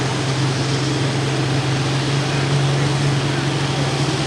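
The Whiskey Wild Machine pulling tractor at a 10,000 lb tractor pull in Hillsboro, Wisconsin drones as a steady, loud, distant engine rumble, continuous throughout, with a crowd-like wash and voices mixed in.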